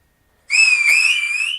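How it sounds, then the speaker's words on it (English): A single loud, steady whistle held for about a second, close and clear, starting abruptly out of silence and holding a high tone that wavers slightly, with no talk. "Yeah, that whistle."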